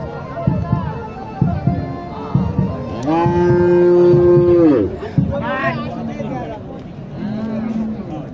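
Sahiwal cows, some pregnant, at a cattle market in Naogaon: one long, loud moo rings out up close amid crowd chatter and voices, with shorter lowing calls before and after.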